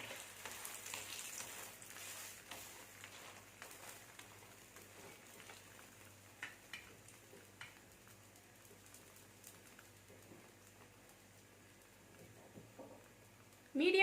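A potato poli cooking in ghee on a pan gives a faint, soft sizzle and light crackle, quiet and steady, ending in a brief louder burst.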